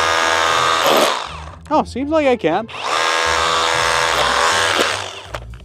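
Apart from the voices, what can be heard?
jackhammer hitting oobleck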